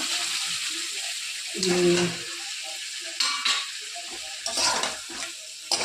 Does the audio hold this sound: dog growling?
no